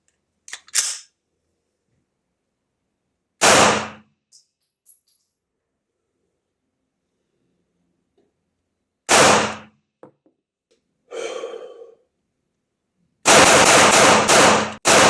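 9 mm pistol shots at an indoor-style shooting range, loud sharp single reports spaced irregularly, then a rapid cluster of shots at the end, with silence between.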